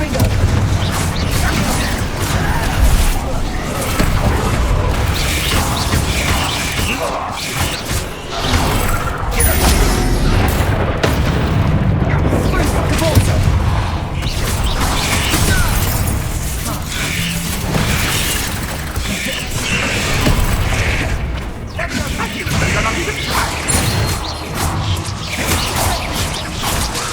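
Dense game-combat din from Hogwarts Legacy, with a Confringo explosion spell among crashes, booms, whooshes and mechanical clatter, loud and continuous throughout, with voices heard intermittently.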